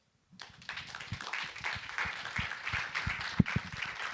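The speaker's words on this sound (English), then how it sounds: "let's give a round of applause" A small group claps steadily for several seconds. The applause is fairly quiet and picks up right after a brief silence.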